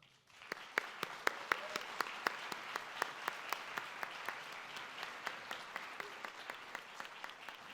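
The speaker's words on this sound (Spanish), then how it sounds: "Reciban con un fuerte aplauso a María Ariza." Applause welcoming a panelist at an industrial engineering 50th anniversary event, sharp distinct claps landing in a steady rhythm, as if only a few people are clapping close by, over a faint wash of softer clapping.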